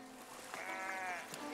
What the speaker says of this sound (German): Das sind putzige Schafe.